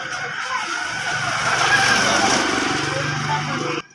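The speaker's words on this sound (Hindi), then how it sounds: "मोटरसाइकिल आ रहा है" A motorcycle passes on a road close by. Its engine drone swells over a couple of seconds and then fades and cuts off, with faint voices in the background.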